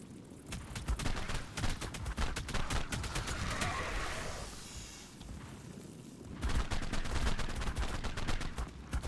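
Rapid, loud video-game gunfire fills most of the stretch, with dense repeated shots, a brief lull in the middle, then another heavy burst of shots and no talk.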